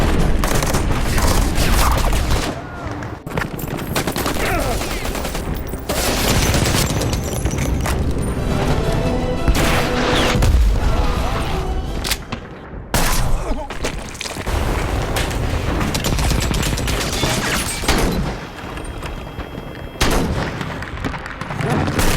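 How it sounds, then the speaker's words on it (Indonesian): Gunfire from a war action film as soldiers shoot terrorists surviving a large bomb blast: dense bursts of automatic fire and heavy booms, loud and continuous, with a voice narrating over parts of it. "para teroris yang masih selamat dari ledakan besar itu langsung ditembaki oleh pasukan"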